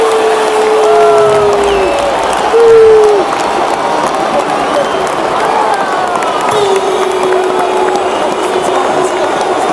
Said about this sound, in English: the happy crowd.